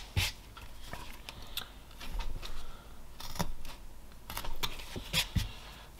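A knife whittles a hooded Viking figure from wood with step cuts, making sharp scraping clicks and short shaving strokes in an irregular rhythm, close and crisp with no talk.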